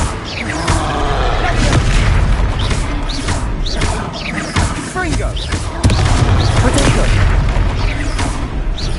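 Confringo fire-spell blasts in a Hogwarts Legacy troll fight: heavy booms and thuds repeat over a dense, loud battle din, with voices talking throughout.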